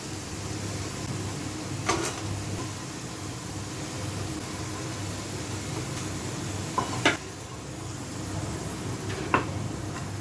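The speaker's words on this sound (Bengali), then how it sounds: "বাকি আলুটা আবার ফ্রাই করে নেব" Steady low hiss of potatoes frying in oil runs throughout, with a few sharp scraping clicks of stirring scattered across it; nobody speaks.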